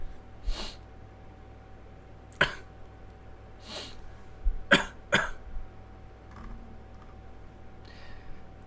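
A person sniffs and snorts a few times in a quiet podcast studio, short scattered nasal bursts with gaps of near silence and faint background hum.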